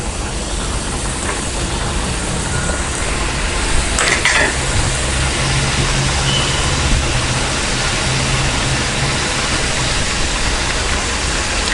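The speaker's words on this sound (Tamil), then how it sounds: "இப்போ நம்ம டீப் ஃப்ரை பண்ணி எடுத்துக்கலாம்" Flattened maida thattai discs deep fry in oil, a loud, thick, unbroken bubbling sizzle with a brief clatter partway through and a low background rumble, no speech.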